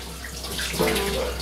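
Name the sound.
butter rinsed under running tap water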